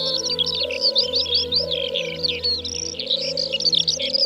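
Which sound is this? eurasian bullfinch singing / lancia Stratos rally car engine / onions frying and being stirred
eurasian bullfinch singing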